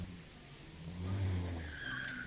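A Peugeot hillclimb race car pulls away from the start line at a hillclimb, its engine rising from a low rumble into a building roar with a high whine, heard from a moderate distance outdoors.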